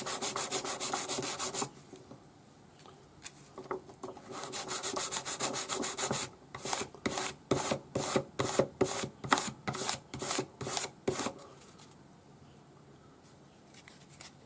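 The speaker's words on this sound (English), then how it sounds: "400 grade paper, wet or dry, and sand it everywhere" Wet-or-dry sanding of a forged pearl ring with 400 grade abrasive paper: close, steady rubbing strokes, first a long continuous scrub, then a quick regular run of short back-and-forth passes, fading to lighter rubbing at the end.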